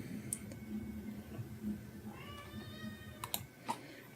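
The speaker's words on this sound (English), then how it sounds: "these kittens meowed at me the first time, like they didn't know who I was" Kittens at an animal shelter give a few faint, rising meows over a low background murmur, with light clicking and tapping nearby.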